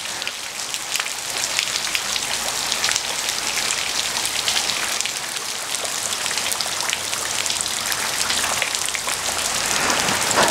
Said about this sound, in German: Ja, da ist er endlich, der versprochene Regen.